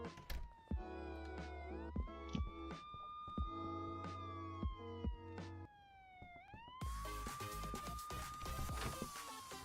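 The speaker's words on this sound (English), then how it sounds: "I can hear the sirens right now." A police car siren wails outside, its tone sweeping up and down in long rising and falling cycles, loud and near, with sharp knocks and clatter nearby and no talking.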